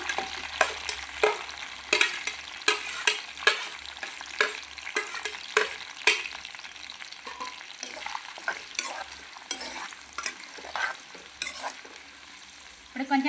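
Green chilies and onions frying in a pan for a broad bean and tomato curry, a bright sizzle punctuated by a steady series of sharp spoon scrapes and clinks against the pan, close and alone with no voices.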